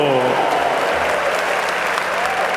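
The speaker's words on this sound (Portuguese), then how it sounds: "Uma salva de palmas a Jesus misericordioso." Church congregation clapping for Jesus during a Catholic sermon, a dense, loud burst of applause filling the hall throughout, with a voice speaking over it near the start.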